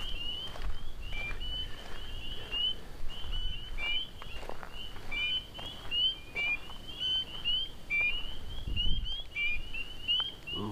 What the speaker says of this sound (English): Might be a bird in there.